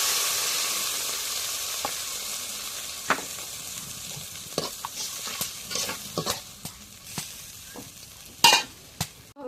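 Cumin paste and garlic paste sizzle steadily in a hot pan. Sharp clinks and scrapes of a spatula stirring against the metal cut through the frying at irregular intervals, and one louder clatter comes near the end.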